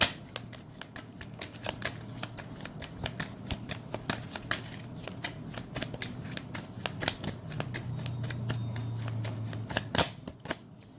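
Tarot cards are shuffled by hand in a quick run of crisp riffling slaps and flicks, dozens of sharp card sounds close to the microphone at an uneven rhythm, with a soft low hum underneath.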